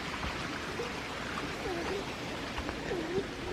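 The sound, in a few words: flowing creek water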